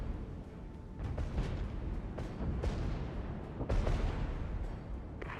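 Artillery fire in the Regiments war strategy game, a series of deep distant booms and rumbling blasts rolling irregularly under continuous battle noise, moderately loud.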